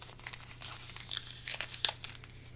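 Faint, close crinkling and crumpling of a small paper note being folded up small, in irregular bursts over a low steady hum.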